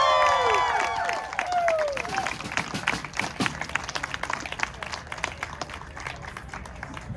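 Crowd clapping in applause at a live music performance in Reno, Nevada, with scattered claps thinning out after an opening instrument tone fades.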